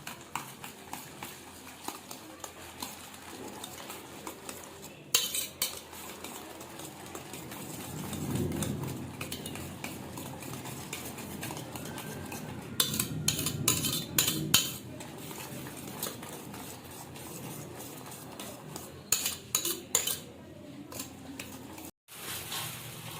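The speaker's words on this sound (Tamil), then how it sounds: "நல்லா பீட் பண்ணிக்கோங்க." Eggs with a little pepper are beaten for an omelette in a kitchen, with quick bursts of rhythmic fork-on-bowl clinking and scraping, pausing between rounds, close and moderately loud.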